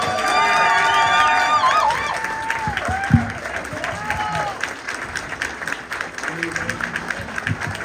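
An audience applauds and cheers for Sean Cassidy at a Q&A event, loud sustained clapping with some shouts and voices over it, then thinning toward the end.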